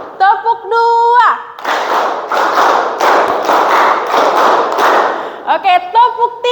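A classroom of children clapping on a teacher's count, several loud group claps in quick succession, with voices chanting before and after.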